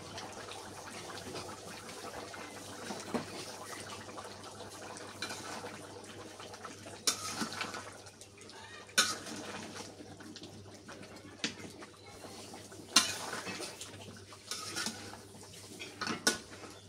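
Ladle scraping and knocking around a metal cooking pot of finished curry with fried bits stirred in, a steady rustling stir broken by several sharp clanks, close by with no talk.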